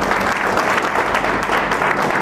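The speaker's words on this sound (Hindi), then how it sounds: "सिर्फ एक इस ख्याल पे जोरदार तालियां।" An audience at an award ceremony with a magic show gives a vigorous round of applause, dense and even, filling the short span without pause.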